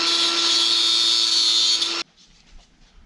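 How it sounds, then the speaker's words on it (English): An angle grinder whines loudly against the sharp edge of a metal bracket for about two seconds, then cuts off abruptly, leaving a quiet workshop with faint handling noise. "I'm going to grind it so it's not sharp."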